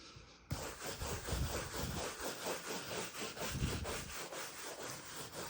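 A stained glass piece being buffed and polished by hand, a close, steady run of quick rhythmic back-and-forth rubbing strokes starting abruptly and continuing evenly, with no voices.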